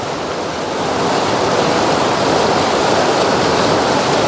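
Running water poured from a tap to wet a shaving brush, a loud, steady rushing hiss that swells slightly after the first second and holds unbroken, with no voices.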